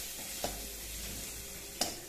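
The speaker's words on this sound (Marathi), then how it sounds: "आता हे परतलेलं आहे चांगलं" Masala sautéing in a pan for Kolhapuri kat vada, a soft steady sizzle with two brief scraping stirs of the spoon, close and fairly quiet.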